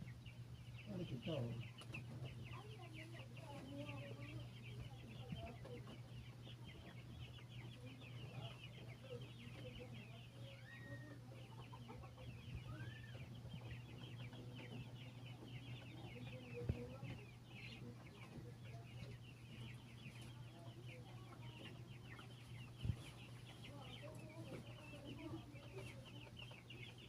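Chickens at a coop under construction clucking faintly and sporadically over a steady low hum, with a few sharp knocks and occasional soft background voices.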